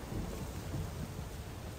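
Steady rain with low rumbling thunder in The Witcher 3, a continuous wash of rainfall on a drizzly in-game morning, fairly faint, with no voices.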